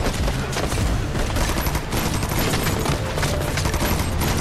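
A dense fusillade of gunfire fills an action film scene, rapid shots and bursts crackling continuously and loudly throughout with no pauses.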